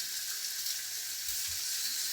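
Pieces of pork rib browning in a pan for a one-pot Spanish rice, sausage and tomato dish, giving a steady, even sizzle and hiss that runs unbroken throughout at moderate volume.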